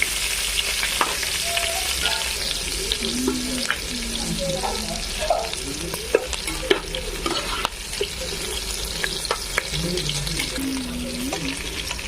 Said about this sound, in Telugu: బాగా ఫ్రై చేద్దాం ఆనియన్స్ పచ్చిమిరపకాయలు